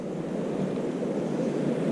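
A small stream near Abrams Falls flows without pause, a continuous low, broad wash of rushing water that stays even in loudness throughout, with no voices.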